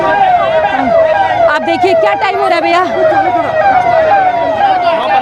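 A fire brigade vehicle's siren wails steadily and loudly through the whole stretch as the engine arrives at a rescue scene, with someone talking over it and street noise around.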